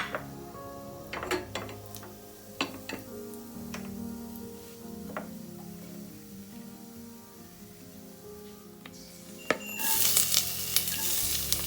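Fennel powder sizzles in a hot pan while a utensil scrapes and stirs it, with sharp clicks scattered through a steady soft frying hiss that swells louder near the end.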